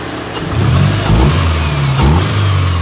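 A car engine with a cold air intake revs up loudly twice from idle, a deep throaty roar with a brief dip between bursts, heard close by from outside.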